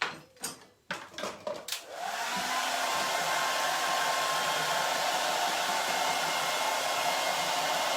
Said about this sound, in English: I'm just going to pop my hairdryer on.